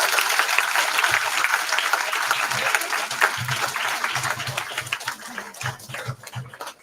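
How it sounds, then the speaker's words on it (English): A seminar audience on AI in fintech gives a round of applause that is dense at first and then thins into scattered claps, with low voices murmuring beneath it toward the end. "A small round of applause to me."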